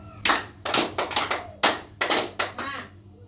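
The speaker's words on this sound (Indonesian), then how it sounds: "kita bertepuk sebanyak 5" A school class claps together five times in a classroom, loud sharp hand claps in quick irregular groups with short pauses between them.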